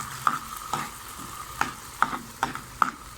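White beans stirred into masala gravy in a pan, a spoon scraping and clinking against the metal in several separate strokes over a soft background sizzle, close and fairly quiet.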